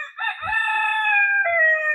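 A rooster crows nearby, a loud drawn-out call that wavers and stretches over two seconds, with no talking.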